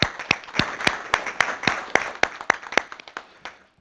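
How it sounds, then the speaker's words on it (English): A small crowd clapping at a city council committee meeting, with sharp, scattered claps in an uneven rhythm that thin out toward the end, heard alone without speech. "I wonder if we could get a special round of applause."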